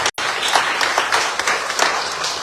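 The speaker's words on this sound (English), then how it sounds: "you need to give her a round of applause" An audience at a 2023 fellows presentation breaks into steady applause, many hands clapping densely at close range after a brief gap at the start, with no talking over it.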